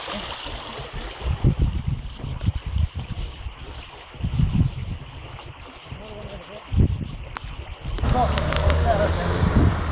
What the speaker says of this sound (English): We're just coming up to a nice little brook.